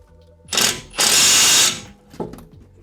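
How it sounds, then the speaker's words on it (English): A ratchet on a brake pin of a Range Rover L322 HSE during front brake work, two loud bursts of rapid mechanical clicking followed by a shorter, fainter click, close up. "we just stuck the ratchet on and gave it a little whack with a mallet"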